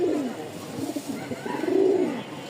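A male Rajshahi Abalak pigeon cooing close by, two low rolling coo phrases, fairly soft with faint room noise behind.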